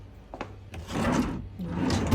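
Wooden drawers in a hotel room slide open and shut, giving a few scraping, rubbing strokes and a soft knock at the end, heard close up and alone.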